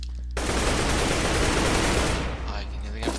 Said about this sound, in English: Oh, I can hear the gunfire.